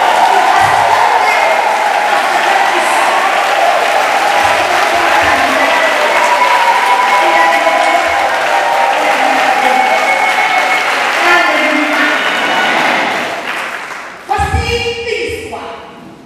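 A church congregation bursting into loud applause and acclamation during a worship service, a dense, sustained roar of clapping with voices mixed in, fading briefly before a final burst.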